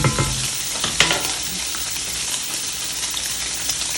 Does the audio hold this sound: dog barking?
no